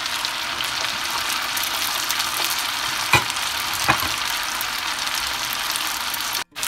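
Macaroni fries in medium-hot oil in a pan for a crispy snack, giving a continuous bright sizzle with a couple of sharp pops and stirring scrapes.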